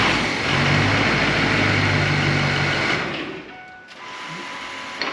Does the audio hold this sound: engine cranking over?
yes